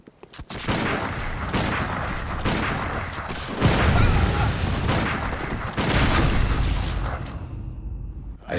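Gunfire in the video game Bloodborne, a run of loud close blasts and booming shots repeating over several seconds with dense, explosive bursts.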